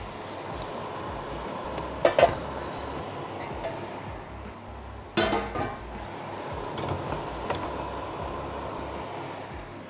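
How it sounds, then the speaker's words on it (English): Lids lifted off heavy pots holding two sourdough loaves mid-bake give two clanking metallic knocks a few seconds apart, close but moderate, over a steady oven hum. "we'll go in and take the lids off"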